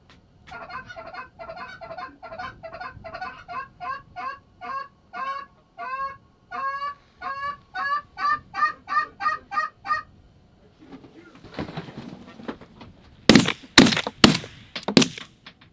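A flock of geese honks loudly and repeatedly in a steady rhythm overhead during a late-season goose hunt from an underground bunker, followed by several sharp, loud gunshots near the end.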